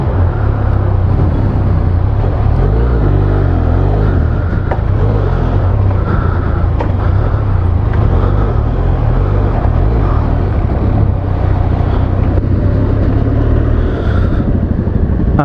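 A Benelli TRK 502 adventure tourer motorcycle is ridden on the road, its engine a loud, continuous low rumble heard up close with wind noise and no talking.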